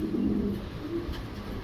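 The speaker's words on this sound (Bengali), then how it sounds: "এই যে দুইটা কবুতরই কিন্তু আমি স্পষ্টভাবে আপনাদেরকে দেখাইতেছি" Pigeons of a red-coloured pair kept for sale give soft low cooing, a continuous murmur close by with faint background noise.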